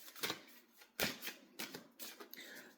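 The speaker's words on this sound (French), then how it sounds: "J'arrive pas à battre mes cartes." Tarot cards being shuffled by hand, heard as a few crisp, papery riffling bursts at an irregular pace, fairly quiet and close, with no talking.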